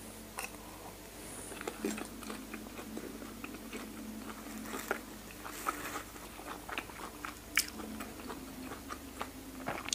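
Someone eating Thai chili dip made with fermented fish, chewing close up with soft crunches and wet bites scattered unevenly over ten seconds, quiet and with no talk.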